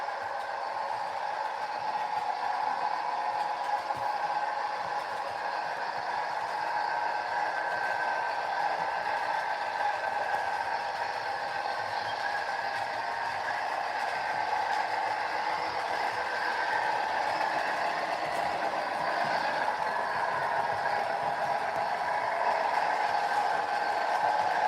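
A model freight train runs steadily on a layout, a continuous even mechanical hum and whir holding at a constant level throughout with no talk over it.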